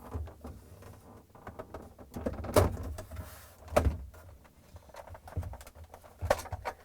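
Plastic drawer cover lifted off inside a GE refrigerator during a defrost heater repair, giving a few sharp knocks and clatters among softer scraping and handling noise, close and moderately loud.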